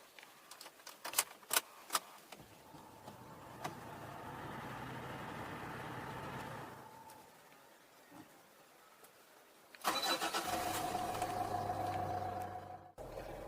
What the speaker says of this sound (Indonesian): Kita coba nyalakan mobil ini terlebih dahulu karena cukup panas nih.